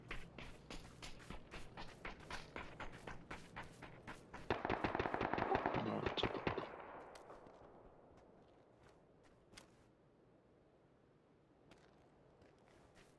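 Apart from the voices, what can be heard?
distant gunshots in video game PUBG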